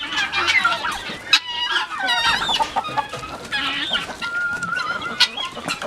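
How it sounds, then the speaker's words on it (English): Guinea fowl and chickens cluck and call in a pen, with overlapping bursts of squawks and clucks close by and loud, and no one talking. "I got a room full of turkeys here and guineas"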